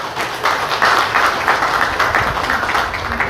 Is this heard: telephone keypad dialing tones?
no